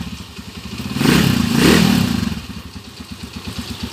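Honda TMX 155 motorcycle engine idling up close with a steady rapid putter, swelling briefly louder as the throttle is blipped twice before settling back to an even idle.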